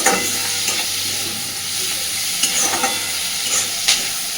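Chopped onion frying with small prawns in a hot pan gives a steady close sizzle, broken by a few sharp scrapes and clinks as the mixture is stirred.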